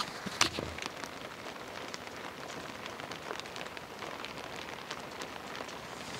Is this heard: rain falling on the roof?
yes